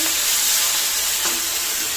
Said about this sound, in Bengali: তো দেখো এদিকে মাছ ভাজা হচ্ছে